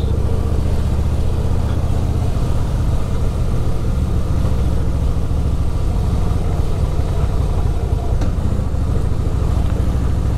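A motorcycle on a long Sunday ride from Kannur in Kerala toward Bengaluru gives a steady, loud engine drone mixed with road and wind rumble, continuous and close throughout.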